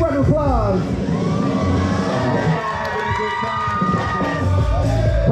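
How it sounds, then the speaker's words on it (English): Crowd cheering, whooping and applauding for a couple introduced in a Latin wedding party entrance, loud and sustained throughout with shouts rising over the mix. "Big round of applause"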